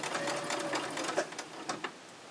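A sewing machine stitching a cloth pad, its needle running in a fast, even mechanical rattle with a few short pauses and pulses, close and fairly quiet.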